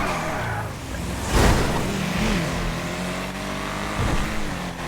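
Car driving in a roleplay video game, a steady engine hum with a brief louder rev burst near the start and another swell later, heard alone without talk.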